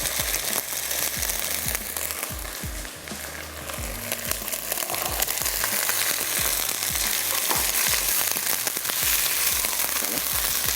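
Chicken and slit green chillies frying in a pan, a steady dense sizzle with crackling pops and occasional stirring scrapes, close and continuous throughout with no talk.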